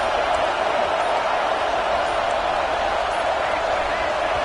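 Roaring stadium crowd at a football game on third and long, a dense, steady wall of loud noise that never lets up, with voices blended into the din.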